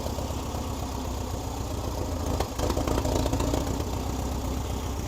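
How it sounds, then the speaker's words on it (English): A 1961 Volkswagen Beetle engine, a long-stored barn find, idles steadily and continuously, a low rumbling chug with a slight rough patch midway, fairly close and loud, no voices. "It's idling."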